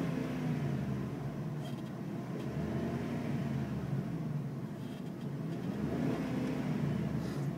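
A 2005 Dodge Ram Quad SLT with a Hemi V8, running steadily with a low, smooth engine drone and gentle swells as the throttle is blipped, heard up close without voices.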